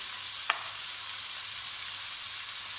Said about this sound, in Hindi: ये हरी मिर्ची डाले